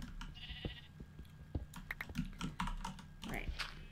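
Sheep in a Minecraft world bleat a couple of times amid rapid computer keyboard typing and clicks, with a voice briefly heard in the background.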